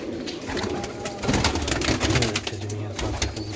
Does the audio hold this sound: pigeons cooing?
yes